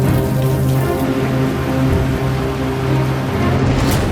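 Heavy monsoon rain in Uttarakhand pours down in a dense, steady roar, loud and close, with no voices over it.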